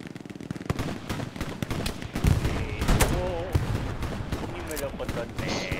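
Gunfire in the war game Hell Let Loose, with sharp shots scattered through the clip amid dense battle noise and voices.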